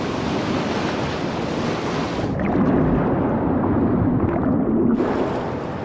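Rough ocean surf roars steadily throughout, waves breaking and churning at close range with gusts of wind buffeting the microphone, loud and continuous with no voices.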